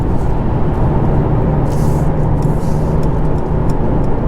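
A 2019 Mercedes E 200d diesel sedan accelerates hard on the road, its engine hum and tire roar holding loud and steady from inside the cabin, with a few faint clicks over the drone.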